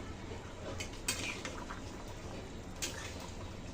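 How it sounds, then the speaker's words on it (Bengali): Spoon stirring rui fish curry with cumin paste in a pan, faint soft scraping and sloshing with two brief sharp clinks of utensil against the pan. "জিরে বাটা দিয়ে দিলাম, তরকারি কিন্তু সিদ্ধ হয়ে গেছে, সুন্দর করে নাড়িয়ে মিশিয়ে নিচ্ছি।"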